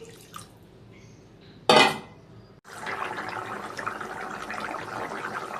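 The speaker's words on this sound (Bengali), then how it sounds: "জলটা ফুটে উঠেছে" Water coming to a boil in a cooking pot on the stove while potatoes are prepared, a steady bubbling hiss that swells after a brief clatter and continues evenly to the end.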